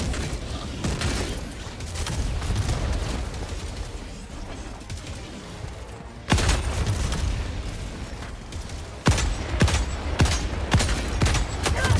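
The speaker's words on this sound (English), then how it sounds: "Throwing grenade." A grenade goes off in the video game Helldivers 2 during a solo mission against Automaton robots, with sharp loud blasts near the middle and end over a steady din of distant gunfire and rumbling combat.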